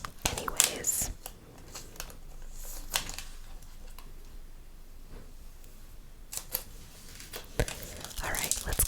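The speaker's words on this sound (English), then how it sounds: "I am just gonna go ahead and sleeve all the cards anyways" Magic: The Gathering cards from a Secret Lair Stranger Things box being slid into plastic sleeves, with close, quiet crinkles and brief slides in scattered bursts, under soft whispered talk.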